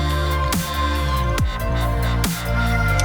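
A chillstep/dubstep bass made with stock FL Studio plugins, including Sytrus, plays a thick sustained synth tone with downward pitch-dropping sweeps roughly every second, loud and alone.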